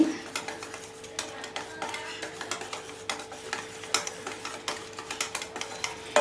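A spoon stirs semolina and gram flour batter with cumin and turmeric in a bowl, making quick, regular close taps and scrapes in a steady rhythm over a quiet background.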